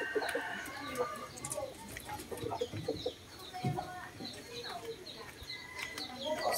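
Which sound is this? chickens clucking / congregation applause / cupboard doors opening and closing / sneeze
chickens clucking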